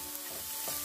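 Shallots sauté in butter in a pan, making a steady close sizzle with light stirring throughout and no talking.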